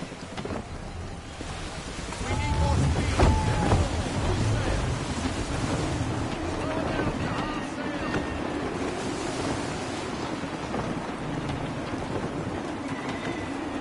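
Gusty wind and ocean waves at sea in Assassin's Creed 3, a broad steady roar of wind and rushing surf swelling and easing, with faint voices drifting in and out.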